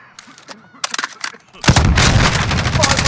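Gunfire in a shooter video game: after sparse clicks and faint effects, a loud sustained burst of rapid shots erupts and continues to the end.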